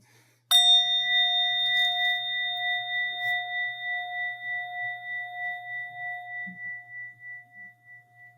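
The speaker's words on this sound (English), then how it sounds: "what I'll do is just ring this bell and invite us together in a bit of reflection" A single meditation bell is struck once, giving a bright, clear ring that sustains and slowly fades with a gentle wavering shimmer over several seconds in a quiet room.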